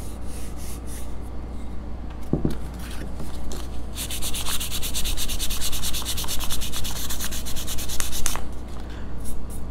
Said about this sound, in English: We'll just use the sanding block on it.